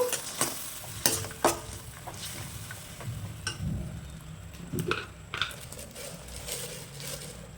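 Tamarind rice with a spoonful of salt is stirred in a pan, with repeated scraping and clinking of a spoon against the metal over a soft sizzle, close and uneven in rhythm.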